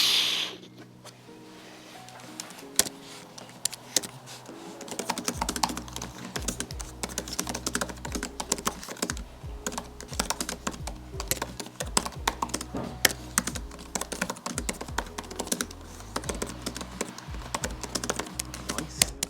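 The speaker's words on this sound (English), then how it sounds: "The click and the travel of the keyboard is actually surprisingly nice." Continuous typing on an iPad Pro keyboard, with rapid, fairly loud clicky keystrokes close by in an uneven rhythm over a low hum throughout.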